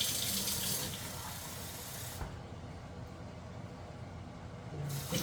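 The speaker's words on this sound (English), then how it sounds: "I need a half cup of water." A kitchen tap runs in a steady, loud hissing stream into a measuring cup, briefly shifting in tone midway as the flow changes before continuing to the end.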